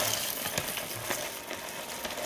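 Sunflower seeds tumbling into a hot pan, a continuous dry sizzling hiss with small crackles and scattered ticks of seeds landing, moderately quiet and steady throughout, with no voices.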